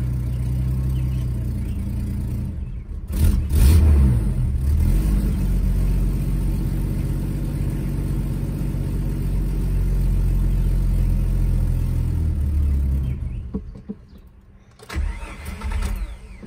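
A 1998 Jeep Wrangler with stale gas cranking and catching, then a loud, rough, close engine running and revving unevenly for about ten seconds before dropping off, followed by another short crank and restart.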